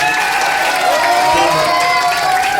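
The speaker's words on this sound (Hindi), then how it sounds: "एक बार इनके लिए भी जोरदार तालियां" A crowd at an AAP political gathering in Suratgarh applauds loudly, a continuous wash of clapping and crowd noise at a steady, full level with a tonal hum running through it.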